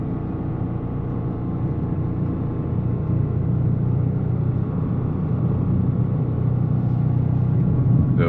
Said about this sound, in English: That the turbo noises are there, and no fake engine noise.